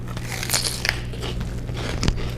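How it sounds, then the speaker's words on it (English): A crunchy snack of bell pepper with poppy seed, sesame seed, garlic and onion seasoning is bitten and chewed up close, giving several sharp crunches and crackles with no talking. "Definitely a crunch."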